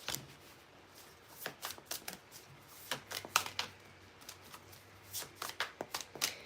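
Tarot cards shuffled and drawn, soft rapid riffling and flicking of a deck in quiet bursts, close by and fairly faint, with light taps as cards are laid down.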